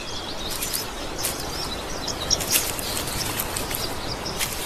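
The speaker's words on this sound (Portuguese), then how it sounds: "E isso atrai um polinizador bastante colorido, o pássaro-sol de tufo escarlate." Scarlet-tufted sunbird calling in the wild along the Nile, with thin, bright chirps repeating over steady outdoor background noise, moderately close and without any speech.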